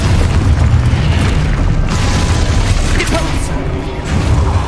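An Expulso blasting spell explodes in the video game Hogwarts Legacy, a loud booming blast with rumbling low end and crashing debris that sustains and fades across the clip.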